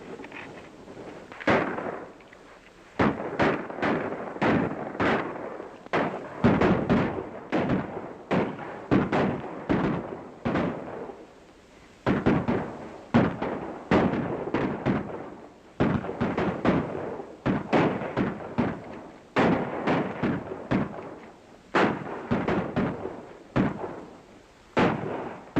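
Gunfire in a shootout in a 1935 western film: dense volleys of sharp gunshots crack out in rapid, irregular bursts across the whole stretch, loud and close, with only brief pauses between flurries.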